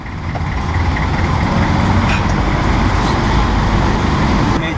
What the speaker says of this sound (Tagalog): nakasakay na ako ng jeep at uh, papunta tayo ng pier